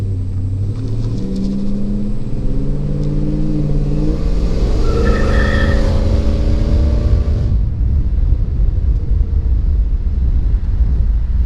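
A Chevrolet S-10 pickup truck with a swapped LS V8 drives through a neighborhood. Its loud, deep exhaust rumble climbs in pitch under throttle, then drops back to a steady, heavy idle-like drone.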